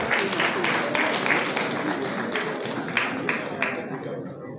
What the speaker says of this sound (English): Please clap for Ali.